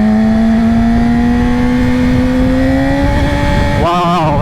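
A 2020 Yamaha R6 with a LeoVince Factory S exhaust revs loud and close, its engine note climbing steadily in pitch for several seconds before dropping and wavering near the end.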